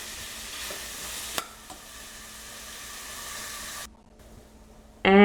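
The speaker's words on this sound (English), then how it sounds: "Here I'm just sauteing it again." Ingredients for a liver and kidney detox soup sautéing in a pan on a stove at medium heat, a faint soft sizzle with a stir and a clink, then a louder burst at the end.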